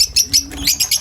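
Budgerigars and lovebirds at a pet market chirp in quick, bright bursts, several short calls overlapping in a steady busy rhythm, close and fairly loud with no talk.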